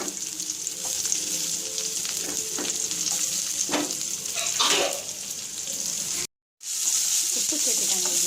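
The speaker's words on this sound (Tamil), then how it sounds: "உப்பு சேர்த்து பெரிய வெங்காயம் சேர்த்து காஞ்ச மிளகாய், கடுகு உளுத்தம்பருப்பு தாளிச்சாச்சு." Onion, dried red chilies, mustard seeds and urad dal sizzling loudly in hot oil as a tempering for a spinach poriyal, with a steady crackle, occasional stirring scrapes and a brief dropout partway through.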